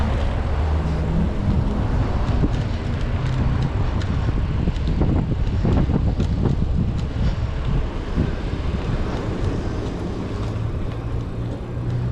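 Wind buffets the microphone in a steady, loud roar while a vehicle drives through town, low rumble and gusty noise continuing without pause.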